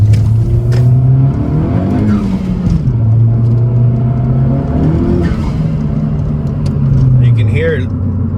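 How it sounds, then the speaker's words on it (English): A 10th-generation Honda Civic Si fitted with a PRL Cobra cold air intake accelerates hard, its engine rising in pitch through the gears with a strong intake whoosh, close and loud, with people talking over it. "you could start to hear that induction noise right from the intake sucking it up"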